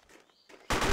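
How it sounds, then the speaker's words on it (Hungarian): A Thompson submachine gun fires in a Battlestrike World War II shooter game: a sudden loud, harsh blast of gunfire bursts in at the end, after brief quiet game ambience. "Két lövés a Thompsonból,"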